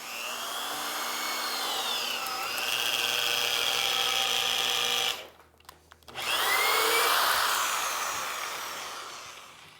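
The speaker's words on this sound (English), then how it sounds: "I'm eyeballing my drill with that first piece in order to make the hole." A power drill bores a hole in rustic furniture wood, loud and whining steadily with pitch shifts, briefly stopping midway before starting up again at full strength.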